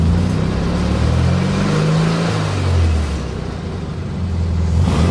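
A Volkswagen Beetle 1300S fitted with a 1600cc air-cooled flat-four engine runs steadily up close, a loud low rumble with a slight rise and dip in revs and no voices.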